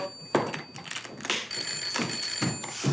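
A telephone rings in short repeated bursts, fairly close and moderately loud, with brief pauses between rings.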